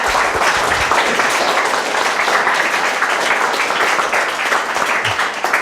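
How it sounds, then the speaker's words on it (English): Loud, sustained clapping from an audience applauding presenters at a talk on women professionals, a thick continuous wash of many hands with no break. "Could we have a round of applause for everyone who gave a presentation?"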